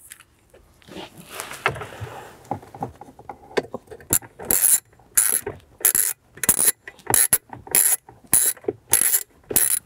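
A ratchet tightens a 10 mm bolt into a fastener while installing a sound system in a 2011-2018 Jeep Wrangler JK, with a few quiet handling clicks followed by about eight loud, evenly spaced bursts of rapid ratcheting, close up.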